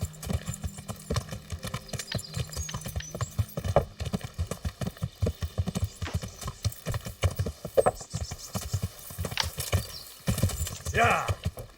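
Rapid clip-clop of horse hooves runs throughout, with a whinny near the end and a voice speaking briefly over the galloping, in the video game Kingdom Come: Deliverance.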